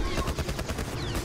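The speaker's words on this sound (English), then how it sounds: "No, stop shooting." Rapid automatic gunfire in The Last of Us Part II rattles out in a quick string of sharp, loud bursts, close and dense, with no talk.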